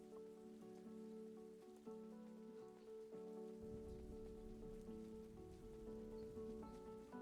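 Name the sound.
rain sounds in video game Loftia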